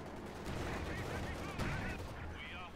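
Pak 40 anti-tank gun fire in a strategy video game, heard as dense booming shots and rattling battle noise that stay loud and continuous throughout, with distant chatter mixed in.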